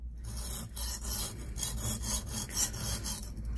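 A 20 cm kitchen knife sharpened on a whetstone: continuous rapid back-and-forth grinding strokes, steady and close, with no talk.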